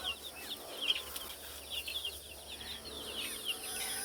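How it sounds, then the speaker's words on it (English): Heritage white leghorn hens and roosters in a backyard flock, soft scattered clucks and chirps at a distance over a steady buzzing insect-like background. "some of these pure white ones right around here are the old heritage white leghorns"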